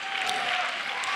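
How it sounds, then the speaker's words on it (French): Audience applause at the finale of a French-language televised game show, a brief steady patter of clapping from a crowd, moderately loud and unbroken. "Merci d'applaudir monsieur Karim Ouattara"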